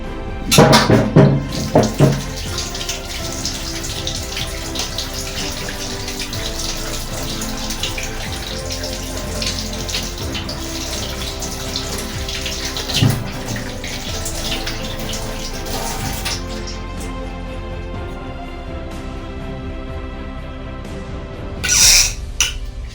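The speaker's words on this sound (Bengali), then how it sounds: "বিট আর গাজরটা ধুয়ে নিই" Tap water runs continuously into a sink while beetroot and carrots are rinsed for a Bengali vegetable chop, with a few louder splashes and clatters near the start and end.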